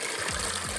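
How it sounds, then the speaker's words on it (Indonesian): Tap water gushing steadily through a simple water filter fed by a pump, a continuous close rushing stream with faint pulsing low undertones and no talk. "Saya akan buka keran ini"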